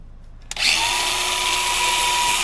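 Power tool grinding grip features into an old brake caliper pin: a sharp contact click, then a loud, steady high-pitched whirring grind that holds evenly close by.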